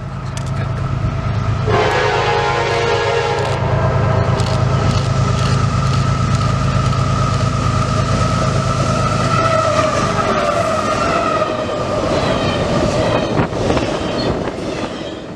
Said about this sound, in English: Next up was intermodal train Q003.